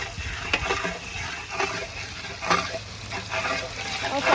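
About 1.5 kg of chopped onions browning in hot ghee in a large pot for commercial chicken biryani, giving a crackling sizzle with periodic scraping bursts from stirring.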